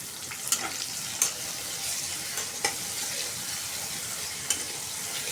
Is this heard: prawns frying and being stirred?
yes